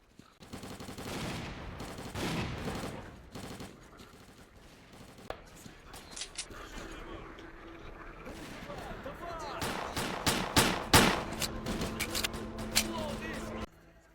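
Bursts of gunfire from the video game Stalker: Clear Sky, clustered shots and rapid volleys of varying loudness spread across the scene, mixed with a voice speaking.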